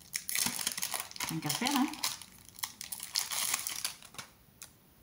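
Package being opened, with plastic wrapper crinkling and rustling continuously and fairly loudly at close range, while someone speaks briefly over it.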